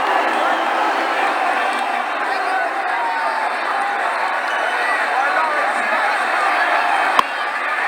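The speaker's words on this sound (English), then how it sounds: "6 runs and the crowd are loving it." A stadium crowd in the video game Cricket 2009 roars and cheers a six, a dense, steady wash of loud crowd noise and babble throughout, with a single sharp click near the end.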